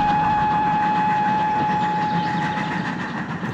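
Steam locomotive running on a railway, a loud steady mechanical rumble with a sustained whistle-like tone and rhythmic clattering underneath.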